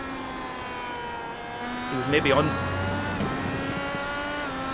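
A race car engine in the iRacing video game runs at full power, a steady high whine sustained throughout with a brief rising burst midway, heard under commentators talking.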